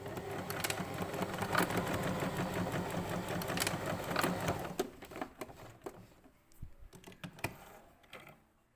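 A sewing machine stitches a puff sleeve sample in one steady, close, rapid whir for about four seconds, then falls quiet except for a few scattered clicks and taps as the fabric is handled.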